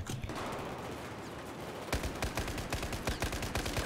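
Rapid gunfire in the Battlefield 4 multiplayer game, a dense fusillade of close, loud bursts that grows sharper and more percussive midway through, with no talk over it.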